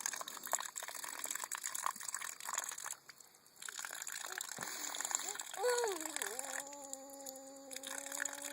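Water runs from a faucet in a steady broadband rush while a ten-month-old baby plays under it, with an adult talking and a few brief childish sounds over the flow.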